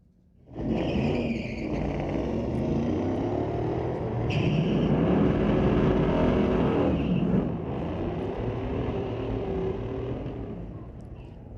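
Drag racing cars, including a Mustang, run down the strip at Mission Raceway, a loud sustained engine roar that swells mid-run then eases slightly, heard from trackside with no voices.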